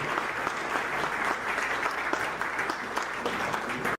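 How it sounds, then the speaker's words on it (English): An audience at a Turkish Airlines welcome event for its new Houston general manager gives sustained, even applause as a speaker comes up. The clapping is moderately loud, continuous and without talk. "Please, let's give him a huge round of applause."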